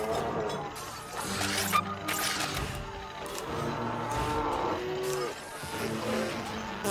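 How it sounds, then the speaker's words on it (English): Cows moo in South Park: The Stick of Truth, several drawn-out lowing calls overlapping across the scene amid game sound effects. "My three Nazi cow minions will take care of you."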